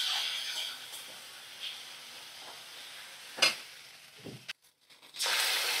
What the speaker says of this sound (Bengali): ভালো করে আমি মশলাটা কষিয়ে নিচ্ছি